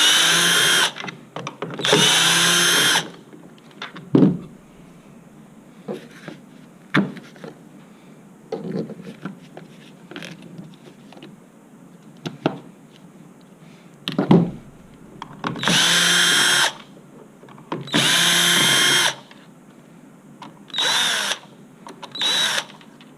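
A power drill with a magnetised tip spins out screws from a zip handle housing in repeated short whirring bursts of about a second each, separated by quiet gaps with small clicks and handling knocks.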